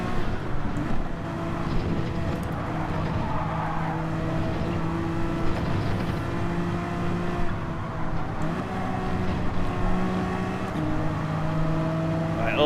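Several race cars run side by side through a left-hand corner in Gran Turismo 7, layered engine tones droning and shifting pitch together, loud and continuous with no pauses.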